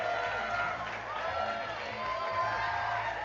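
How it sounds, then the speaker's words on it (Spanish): Crowd cheering and clapping for the ten finalists at the Miss Universe Cuba 2025 grand final, a dense, steady roar of applause and whoops filling the hall with voices mixed in throughout. "Fuerte el aplauso para Granma y para las 10 finalistas de Miss Universe Cuba."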